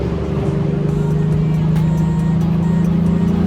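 A car fitted with Eibach lowering springs accelerating on a road, heard from inside as a loud, steady low engine drone with road rumble throughout.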